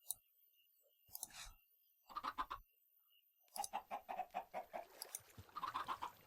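Chickens cluck in a video game egg farm, with close, clear bursts of clucking that turn into a quick rhythmic run of clucks and then a busier flurry at the end.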